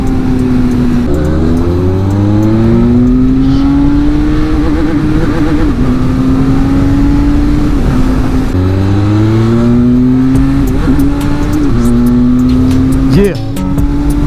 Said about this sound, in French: même avec le pot d'origine elle fait un bon bruit.